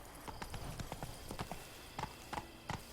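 The horse in The Witcher 3: Wild Hunt trots with steady, rhythmic clip-clopping hooves on hard ground, moderately loud and close, with no talk over the hoofbeats.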